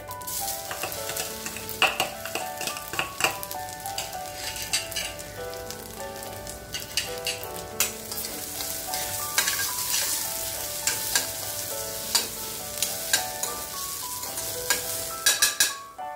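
Grated coconut and poppy seeds fry in ghee with a constant crackling sizzle, while a spoon stirs and scrapes the pan in repeated clinks and knocks, close and loud with no voices.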